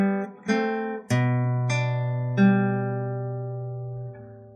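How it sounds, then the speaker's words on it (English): A classical guitar plays two bars of Carulli's Waltz: a handful of plucked notes and a sustained bass note ringing out clearly and softly, solo with no talking. "So the 2 bars sound like this."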